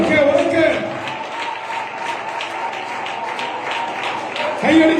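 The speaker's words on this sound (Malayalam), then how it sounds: "കൈയടിക്കുക." Applause from a congregation at a church New Year service, a steady sustained clatter of many hands lasting throughout, with voices rising over it near the start and end.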